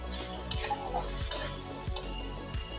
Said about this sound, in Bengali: ভালো করে এখন কষিয়ে নিই